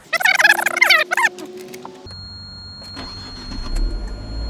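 A Fiat 500L with a 1.4 engine starting after the key is inserted: a chiming warning tone first, then the starter catches and the engine settles into a low, steady idle close by.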